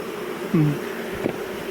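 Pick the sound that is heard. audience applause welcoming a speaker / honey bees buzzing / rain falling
honey bees buzzing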